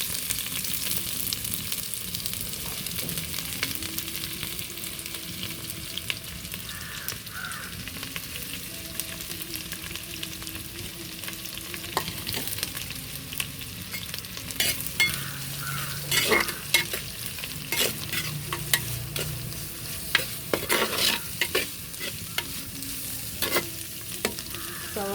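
Sliced onion fries in a pan with garlic, ginger, green chilli and curry leaves for a Kottayam-style chicken curry. A steady soft sizzle runs throughout, with frequent scraping and clinking as a spoon stirs the onion, and nobody talks.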